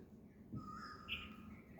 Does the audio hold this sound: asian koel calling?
yes